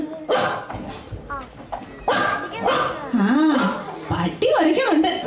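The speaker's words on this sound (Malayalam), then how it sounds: "പട്ടി കുറയ്ക്കണുണ്ട്." A dog barks in several sharp bursts while people talk and laugh nearby, the barks close and loud between stretches of conversation.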